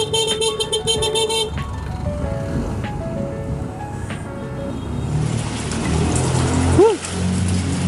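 Steady rain hisses over traffic noise, with a tonal chime early on and a brief car horn toot near the end.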